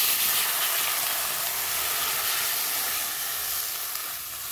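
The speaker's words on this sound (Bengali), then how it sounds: "জল দিয়ে দিলাম" A hot pan of fried fish with nigella seeds hisses and sizzles steadily as water is added, a loud, close, continuous crackling steam sound with no voices.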